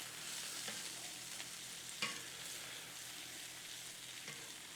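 Steaks sizzling in butter on a Blackstone griddle, a steady soft crackle and hiss throughout with a brief louder spit near the middle.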